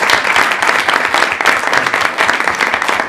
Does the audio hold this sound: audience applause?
yes